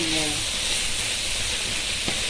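Biryani mixture with shrimp frying in a pan, giving a steady, loud broadband sizzle and hiss that runs unbroken throughout, with a faint voice briefly at the start.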